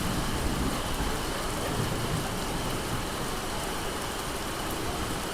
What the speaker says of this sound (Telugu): మనం వచ్చిన వెంటనే మళ్ళీ వర్షం పెరుగుతుంది